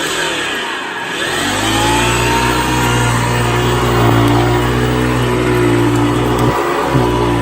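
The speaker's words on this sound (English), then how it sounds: "I finally got a bag put in this machine, so I can go ahead and run it" A Hoover Decade 80 vacuum cleaner runs on its low setting, giving a loud, steady motor drone with a rich, constant hum that holds even from start to finish.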